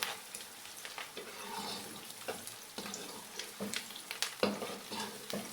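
Steady sizzle of onions frying with scattered clinks and stirring scrapes of a utensil against a pan, continuous and close, no voices.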